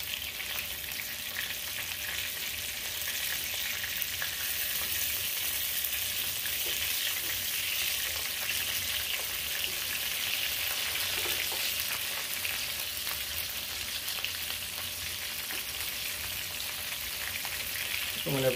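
Buffalo chicken eggrolls fry in a pan of hot oil, giving a continuous dense crackle and sizzle that stays steady and close for the whole stretch, with no one speaking over it.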